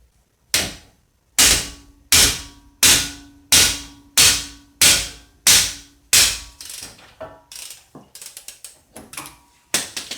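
Sharp metallic hammer blows ring out one after another at a steady pace, about a dozen strikes, quickening and softening toward the end, hammering out a front wheel stud on a Toyota Camry.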